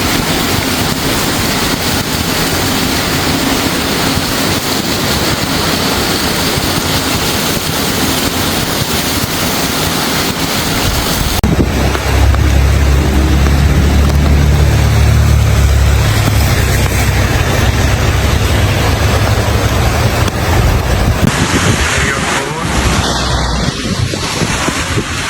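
Swollen river floodwater surges through streets in Queensland, Australia, a loud, constant roaring wash mixed with heavy wind buffeting the microphone, with no voices.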